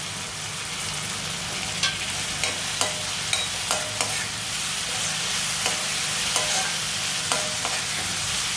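Tomato and onions frying in sesame oil (gingelly oil) for a chicken dish, a steady broadband sizzle with occasional stirring clicks and scrapes throughout, close and fairly loud with no talking.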